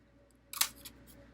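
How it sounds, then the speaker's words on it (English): A short crisp snip of scissors cutting around a cardboard tube, followed by a softer second cut over a quiet room hum. "carefully cutting all the way around the tube again to make my second firework stamp"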